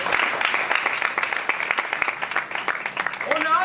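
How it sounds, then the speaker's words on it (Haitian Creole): Audience applause for writer Charles Dieudonné at a literary gathering, a crowd clapping steadily and fairly close, with a voice speaking over the clapping near the end. "Encore une fois, je demande d'applaudir Charles"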